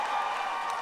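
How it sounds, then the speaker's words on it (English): A comedy club audience breaks into steady applause and light cheering during a show-of-support poll, a brief, even wash of clapping with no voices standing out. "Clap if you think it's Kevin."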